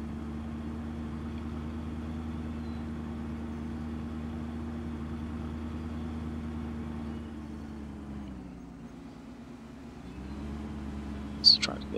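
A tractor in Farming Simulator 2015 idles with a steady low droning hum, easing down briefly before settling back, followed by a short sharp click near the end.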